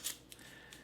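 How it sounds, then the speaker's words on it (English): Paper is peeled off an item from a Russian MRE ration pack, giving three brief crisp rustling tears close to the mic, the first loudest. "let me see if I can get the paper off here"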